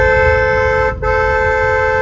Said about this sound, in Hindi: आ गई भाई, हॉर्न बजाते ही आ गई,